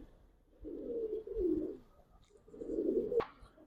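Giribaz pigeons in a loft give two soft, low cooing phrases, each a rolling burr lasting about a second, close and fairly quiet, with a brief sharp click at the end.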